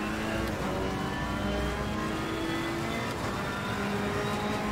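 Race car engine heard from inside the cockpit in a racing video game, a steady loud drone with rising and falling harmonic whine as the engine revs, continuous throughout with no talking.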